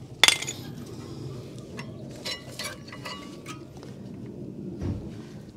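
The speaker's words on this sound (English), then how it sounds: "Then we can pull off the old brake pads here" Worn rear brake pads come out of a Toyota RAV4 caliper bracket with a sharp metallic clink at the start and light scraping and rattling of metal parts after it, close and quiet.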